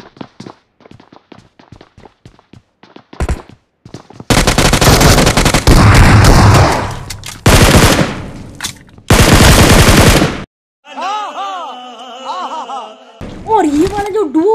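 Gunfire during a fight in the mobile game BGMI, with long loud bursts of rapid automatic fire broken by short pauses, preceded by soft footsteps and followed by tonal game effects.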